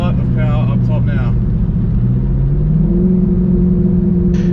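A cammed Ford BA GT engine drones and then climbs in pitch as it accelerates hard, a loud in-cabin rumble with a brief voice near the start.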